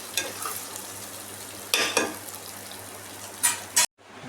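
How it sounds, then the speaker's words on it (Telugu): Eggs stirred into masala in a frying pan for egg rice, a steady soft sizzle with scraping spatula strokes, a few louder stirring bursts, then an abrupt cutoff; no talking. "మసాలా ఎగిపోయింది ఎగ్స్ వేసుకుంటున్నాం ఇలాగా కలుపుకుందాం"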